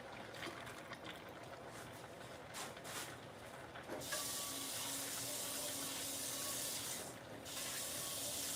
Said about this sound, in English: So I think I'm gonna add a little bit more water